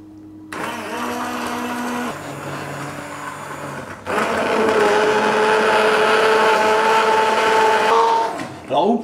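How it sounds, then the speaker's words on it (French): Hand blender whirring steadily as it purées a cep mushroom velouté, a motor drone close and loud, stepping up in intensity midway before cutting off, with a voice talking over it. "Maintenant, je vais le mixer."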